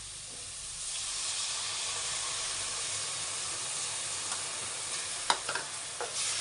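Brinjal gojju with turmeric and tamarind frying in a pan, a soft continuous hiss of simmering with a few light clinks and stirring knocks toward the end, close and fairly quiet, no voices.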